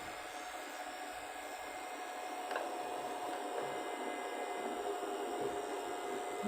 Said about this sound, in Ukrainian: От при 400 Вт стартують вентилятори.